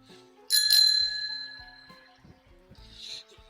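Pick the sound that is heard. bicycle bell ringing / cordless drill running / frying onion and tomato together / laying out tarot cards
bicycle bell ringing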